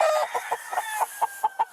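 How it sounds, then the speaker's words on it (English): Roosters at a rescue property give a quick, close run of sharp, repeated clucking calls, about a dozen bursts in under two seconds. "Roosters on this property."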